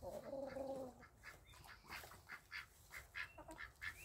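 Ducks quacking and chattering close by, a nasal honking call up front followed by a run of short soft quacks and murmurs in uneven bursts, fairly quiet with no speech.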